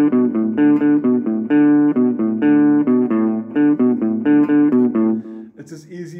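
An electric guitar plays a riff with first-finger downstrokes and light palm muting. The notes are short, steady and rhythmic, played close and loud with no talking.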